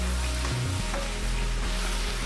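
Chopped onions sizzle and fry together with meat in a pan for samosa filling, a continuous close hiss with a few low knocks and scrapes of stirring.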